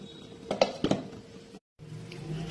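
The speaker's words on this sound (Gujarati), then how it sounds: "ચાલો તો હવે આપણે આનું ઢાંકણ છે એ બંધ કરી દઈએ" Metal lid set down and closed on a cooking pan of pav bhaji masala and oil: a few sharp clinks and clatters in quick succession, close and moderately loud, followed by quiet.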